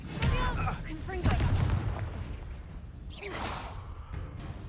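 Confringo spell blasts in Hogwarts Legacy burst with whooshing fiery explosions over a low rumble of combat, with spoken voices between the blasts.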